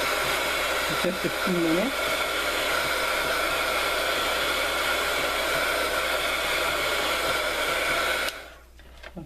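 A hair dryer blows steadily and loudly to dry paint on a stamped art tag, a constant close whoosh that cuts off near the end, with a brief spoken remark over it.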